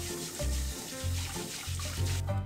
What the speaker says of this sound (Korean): 무 500g 겉면을 솔로 깨끗이 닦아주세요.